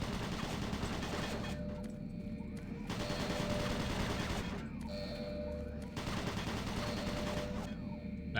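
Automated turret guns in Doom 3 fire in sustained rapid bursts, a dense rattling gunfire that stops and restarts several times in a steady rhythm, loud and close, with no talking over it.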